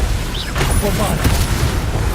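A Bombarda exploding spell cast in Hogwarts Legacy, heard as dense, booming blasts in rapid succession that are loud and close, with a voice and a brief rising whistle mixed in.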